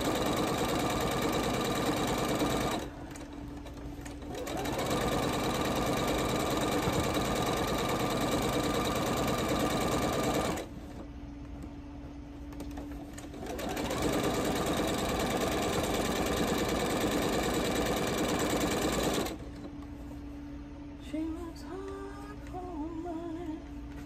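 Steady electric whirring of a sewing machine piecing quilted holiday stockings, running in long close bursts broken by short quiet pauses.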